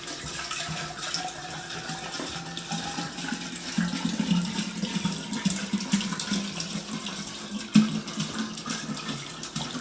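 Water poured steadily into a container while making homemade spring water, a continuous close splashing and trickling stream with no talk.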